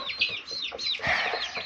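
A pet rooster clucks and squawks in short, rapid bursts close by, a few choppy calls in quick succession with no voices over them.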